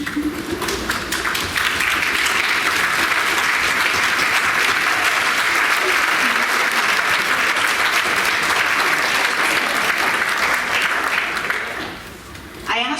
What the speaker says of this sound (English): we wanted to give you a warm round of applause